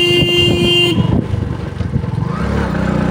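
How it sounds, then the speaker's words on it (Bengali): A motorcycle horn sounds loudly at a bend on a mountain road during a long-distance bike ride, one sustained honk lasting about a second, followed by the engine's rough, pulsing rumble as the bike climbs in first gear. "আর এই বাঁকে সবসময় হর্ন।"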